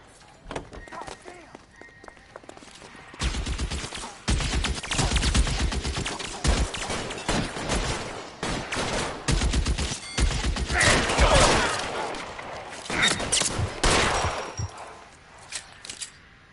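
Gunfire in an L.A. Noire shootout, dense bursts of shots and rapid fusillades crackling loudly through most of the scene, mixed with voices talking over the action.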